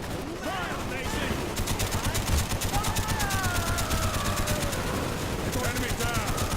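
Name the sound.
gunfire in a Vietnam War video game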